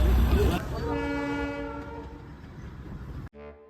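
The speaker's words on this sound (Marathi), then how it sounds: "ही ट्रेन जशी गेली तशीच परत आणली" At Ghum railway station in Darjeeling, the toy train sounds a long, loud, steady horn over a brief rumble of the train, ending in a short second blast.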